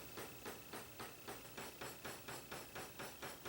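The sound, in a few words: ball peen hammer pounding steel tang of dagger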